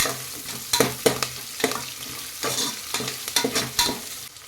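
Green chillies and fenugreek seeds frying in ghee for ghee rice, with a steady sizzle broken by repeated sharp scraping strokes of a stirring spoon, close and fairly loud, no voices.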